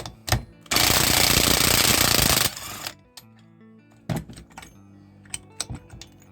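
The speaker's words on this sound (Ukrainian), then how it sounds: "І просто відкрутити. Зараз імпакт." A PROcraft K450 impact driver hammers loose a bolt on a saw, one loud rattling burst lasting about two seconds, followed by metallic clinks and taps of parts and tools being handled.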